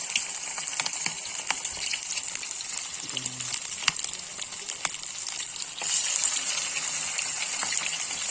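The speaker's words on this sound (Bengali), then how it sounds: "এভাবে ডুবা তেলে ফ্রাই করে ফিরে আসছি" Chicken lollipops deep frying in hot oil, making a steady, bright sizzling hiss with scattered pops that swells slightly louder near the end.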